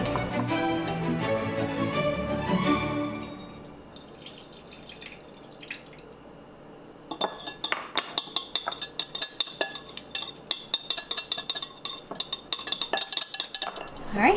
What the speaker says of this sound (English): we are going to whisk together the egg yolk, the lemon juice, and the almond extract